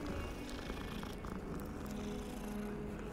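A cat purring in the video game Hogwarts Legacy, a steady low continuous rumble with no talking over it.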